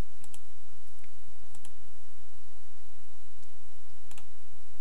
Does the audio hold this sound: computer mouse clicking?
yes